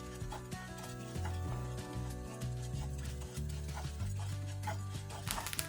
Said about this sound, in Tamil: இந்த உங்களுக்கு சத்தம் கேட்கும் பாருங்க. இது வந்து அரிசி ஒவ்வொன்றுமா இந்த லைட்டா பொரிய தொடங்குது.